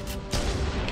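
Gunfire in the Halo MCC video game, a burst of rapid shots with a sharp onset that rings on for about a second, loud and close, with no voices over it.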